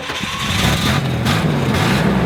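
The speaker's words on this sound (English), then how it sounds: "Now, admittedly, it starts a little rough." An old Chevy El Camino engine turns over and runs roughly, a loud uneven rumble close by with a low, irregular idle, needing exhaust work.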